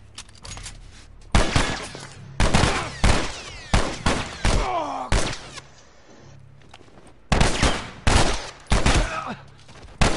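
Bursts of gunfire in The Last of Us crack out in rapid, loud volleys separated by short pauses, with a few quieter gaps between the clusters of shots.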